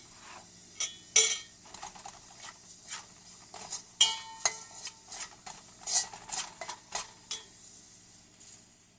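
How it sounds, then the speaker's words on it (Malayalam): Spice paste sizzles softly in oil over low heat for a Kerala-style prawn curry, while a spoon scrapes and taps the pan in irregular bursts. "മസാല നന്നായിട്ട് വറുത്ത് വരുമ്പോൾ അതിൻ്റെ എണ്ണ ഇങ്ങനെ മുകളിൽ തെളിഞ്ഞു വരും."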